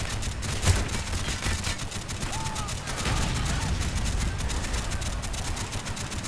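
In a Call of Duty: Black Ops battle, dense rattling gunfire and booming explosions go on without letup, loud and close.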